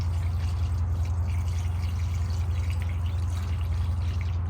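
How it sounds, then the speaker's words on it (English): BMW blue coolant, diluted half with distilled water, poured into the engine of a BMW E90/E92 with an N5 engine, a steady close liquid glugging and trickle that continues evenly without speech. "So now you're gonna fill up with your BMW blue coolant, link down below."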